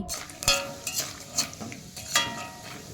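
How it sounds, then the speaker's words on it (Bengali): Peanuts frying in oil in a wok, a soft sizzle under repeated scraping and stirring strokes of a metal spoon against the pan, close up, with no talk. "ওই তেলের মধ্যে আমি কিছুটা বাদাম ভেজে নিচ্ছি"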